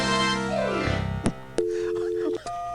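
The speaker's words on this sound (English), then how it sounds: "All right, it's ringing." A telephone call connects through a falling sweep of tones, then short beeps and a steady ringback tone that cuts off, loud and close on the line.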